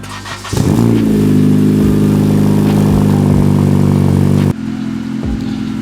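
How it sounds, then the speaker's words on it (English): A 2014 Honda Civic Si engine fires on a cold start: a brief crank, then a loud, steady, high idle holding for several seconds before dropping slightly lower, heard close and alone. "So that's the cold start."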